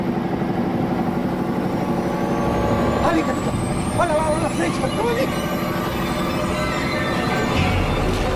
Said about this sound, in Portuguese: desliga o motor